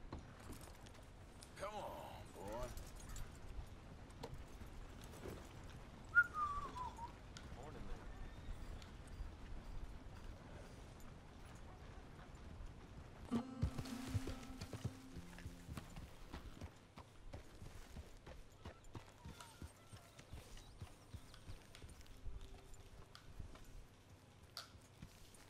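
A horse clip-clops along while being ridden in the video game Red Dead Redemption 2, soft rhythmic hoofbeats running quietly under game sounds and someone talking.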